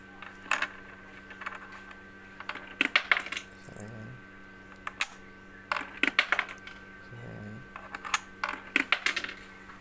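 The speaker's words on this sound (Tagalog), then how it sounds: "Nalaglag tayo ng barya" Several coins dropping into the coin slot of a piso wifi vending machine, a faulty slot that swallows coins, with sharp metallic clinks in short bursts over a steady electronic hum and some low voice sounds.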